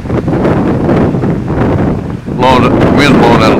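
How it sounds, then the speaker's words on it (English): Steady wind buffeting an outdoor microphone in Southern Virginia, a light north-northwest breeze of about 8 mph, roaring and gusting throughout, with a whining tonal hum joining near the end. "right now we got about, I'd say about an 8 mile an hour wind"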